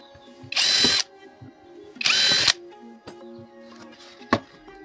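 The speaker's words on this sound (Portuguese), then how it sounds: "Então, vou fazer dois furos." Power drill boring two holes into a pallet wood drawer lid, two short loud whirring bursts about a second apart, followed by quieter handling knocks and a sharp tap, no talk.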